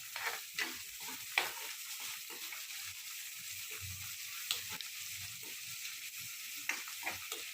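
Green chilli chicken frying in a pan, a steady soft sizzle with occasional stirring clicks and scrapes, fairly quiet and close, with no talking.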